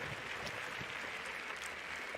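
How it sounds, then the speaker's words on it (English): A large athletics stadium crowd cheers steadily for a sprinter ahead of a women's 100m race, a broad, continuous roar of noise at a moderate, even level throughout. "equally big cheer for her"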